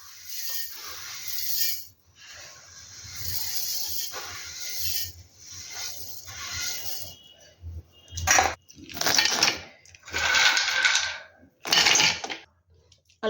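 Peanuts, sesame seeds and almonds poured into a mixer jar for healthy laddus: bursts of dry hard rattling and clattering against the jar, near and fairly loud, repeating in several separate pours.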